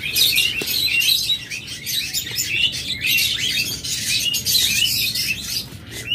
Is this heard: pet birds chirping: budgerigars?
yes